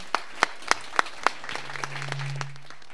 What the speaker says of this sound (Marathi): सो या सगळ्या माझ्या फ्रेंड्ससाठी प्लीज परत एकदा टाळ्या.